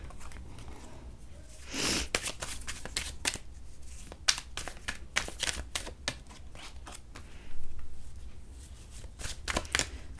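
Tarot cards are shuffled in quick bursts of soft riffling and slapping, coming in irregular clusters with brief pauses, close and fairly quiet.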